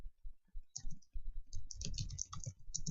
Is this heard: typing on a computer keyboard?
yes